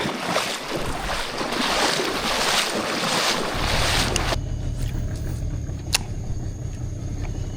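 A boat pushed through shallow water on the Lenggor river, heard as sloshing water and wind buffeting the microphone, with a heavier low churning rumble joining partway through.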